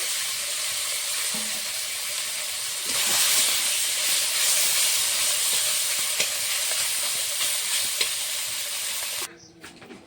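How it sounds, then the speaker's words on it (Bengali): Small fish frying in a wok give off a loud, continuous sizzling hiss that swells slightly partway through, then drops off sharply near the end. "বাকি মাছগুলো এইভাবে ভেজে নেব।"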